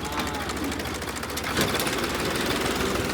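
A tractor's diesel engine idles with a trolley attached, a steady, rapid knocking chug, close and continuous, briefly surging a little louder midway.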